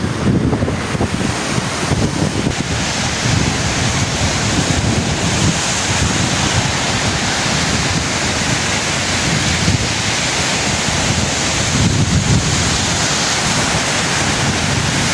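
Loud, continuous roar of ocean surf breaking on a beach, with heavy wind buffeting the microphone throughout.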